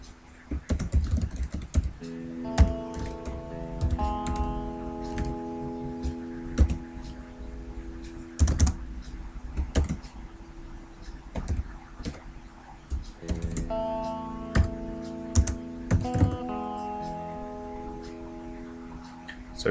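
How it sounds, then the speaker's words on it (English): Computer keyboard keys clatter in quick irregular bursts, near and fairly loud, while an expression formula is typed for an Autodesk Maya rotation setup, with a low steady tone in the background. "type our formula in"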